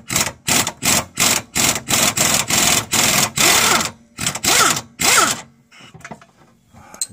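An impact wrench works on the sway bar link of a Honda Accord, hammering out a rapid run of about a dozen loud, evenly spaced rattling bursts before stopping, with faint clinks afterward.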